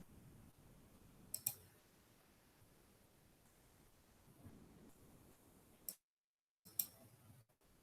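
Computer mouse clicks while working in Google Docs, a few sharp, quiet clicks at scattered moments, including a quick double click, over a faint background hiss with a brief dead-silent gap.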